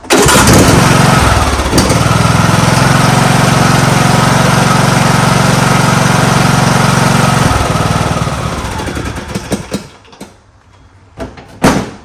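A John Deere lawn tractor with a 19.5 hp Briggs engine starts and runs, a loud close, steady engine roar that holds for about eight seconds, then cuts out, followed by a few clunks and knocks.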